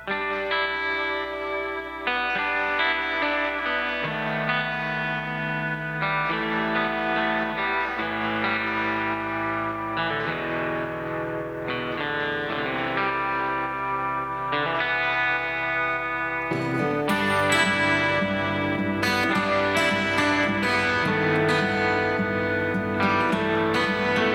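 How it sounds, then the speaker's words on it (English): An electric guitar rings out with effects-laden, sustained chords and echoing notes, played alone and steadily, growing brighter and fuller near the end. "So the guitar part just sounds like this."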